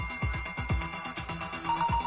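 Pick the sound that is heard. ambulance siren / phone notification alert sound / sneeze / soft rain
phone notification alert sound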